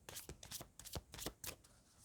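Tarot cards being shuffled by hand in a series of quick, close riffling bursts with brief pauses between them, crisp and papery, no voices.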